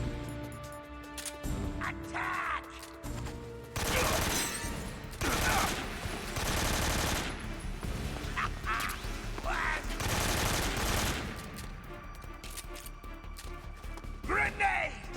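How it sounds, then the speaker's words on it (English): Bursts of AK rifle fire in the stealth game Metal Gear Solid 3: Snake Eater, loud broadband volleys clustered through the middle of the stretch, mixed with game sound effects and voices. "I'm gonna equip the AK and shoot the fuck out of him."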